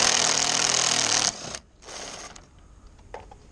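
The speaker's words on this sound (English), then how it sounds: "So I'm gonna do the second screw out." Power driver spinning out a screw beneath the middle grille of a 2018 Mercedes SL front bumper: a loud, steady close whir for over a second, then a brief second burst and faint clicks.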